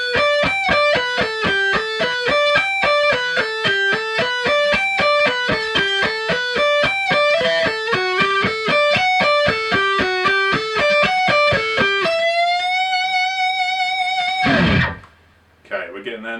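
Electric guitar playing a song's solo arpeggios, fast cascading picked notes in an even, repeating rhythm, clear and upfront, ending on a sustained bent note.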